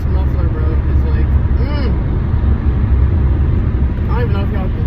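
Loud car with a noisy muffler rumbling inside a parking garage, a steady low droning roar that fills the space throughout, with faint talk underneath.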